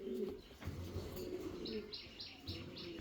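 Fancy pigeons cooing in repeated, soft, throaty bursts, close by. Faint chirps and light background noise run underneath.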